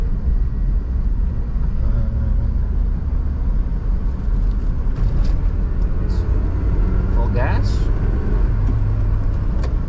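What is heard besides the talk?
Suzuki Jimny 1.3 engine driving in third gear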